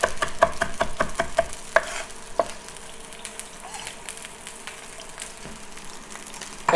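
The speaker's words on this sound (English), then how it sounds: "now we're just going to chop, chop, chop" A kitchen knife chops pepper and rosemary on a board in quick rapid taps at first, then slows to a few scattered strikes over a steady frying-like background hiss.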